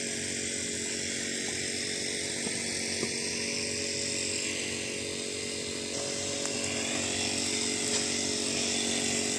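A grass cutting machine runs near a beach in Port Dickson, its steady high engine whine droning continuously and fairly close, with no talking over it.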